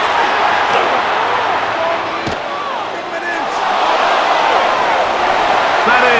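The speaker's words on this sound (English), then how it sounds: "The crowd cranking it up another notch before 3rd and long." Stadium crowd noise in Madden NFL 26, a Chiefs versus Broncos football simulation, a loud continuous roar that swells toward the end, with a sharp slam midway and commentary over it.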